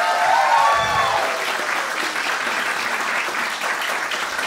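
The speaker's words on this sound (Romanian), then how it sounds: "prietenul meu, Florin Gheorghe, încă unul de aplauze" Audience at a stand-up comedy show applauding steadily, a dense even wash of clapping that stays loud throughout with no voices over it.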